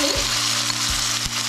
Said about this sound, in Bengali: একটু ভাজা হয়ে গেলে দিয়ে দেবো বেটে রাখা আদা, রসুন